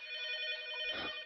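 A telephone rings inside a Roblox game, a steady electronic tone with stacked harmonics holding for over a second at moderate, even loudness, with a faint low rumble rising near the end.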